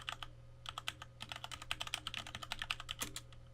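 A password typed on a computer keyboard while enabling the SSH service on Linux: a steady run of quick, close, crisp key clicks with short pauses and one brief gap, and no talking.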